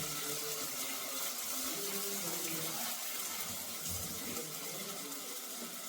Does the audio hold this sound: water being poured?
yes